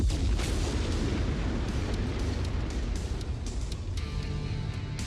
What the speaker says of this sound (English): Those explosions look nice.